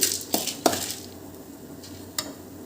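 A few sharp metallic clinks of a spoon against a pan over a quiet background with a faint sizzle, close by, as two dried red chillies fry on a low flame.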